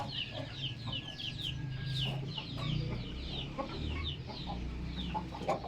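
A small Aseel hen clucks repeatedly in short, close bursts of sound, steady over a low background hum, with no talking.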